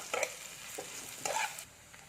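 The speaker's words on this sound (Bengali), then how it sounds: "পেঁয়াজটাকে আমি একটু ভেজে নেবো" Onion frying lightly in a pan while a spoon stirs it, a soft steady sizzle broken by a few scraping strokes, quiet and close with no talking.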